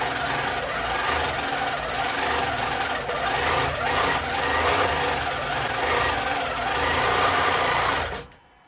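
A sewing machine runs steadily close by, stitching with a continuous fast mechanical whir and clatter for several seconds before it stops abruptly.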